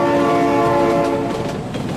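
In the BeamNG driving game, a train roars past at close range with its horn sounding in loud sustained chords, no talking over it.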